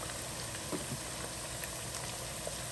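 Chicken paste frying in a kadai, a faint, steady bubbling sizzle with scattered small pops, alone without voices.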